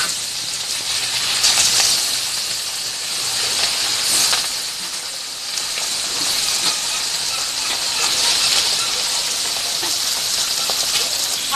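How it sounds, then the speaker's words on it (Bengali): Fish frying in hot oil in a kadai gives a continuous, fairly soft hiss that swells in a few brief surges and then settles back. "মাছটা আমার ভাজা হয়ে গেছে,"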